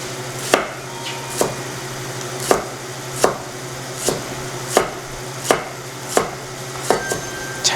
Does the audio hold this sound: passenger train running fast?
no